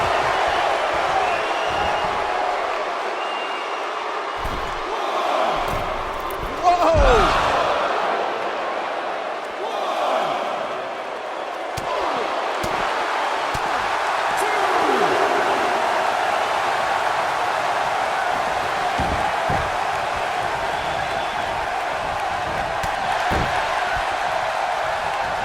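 Arena crowd noise in the WWE 2K19 wrestling game, a broad murmur and roar from over 77,000 fans with occasional thuds and slams, steady throughout under commentary voices.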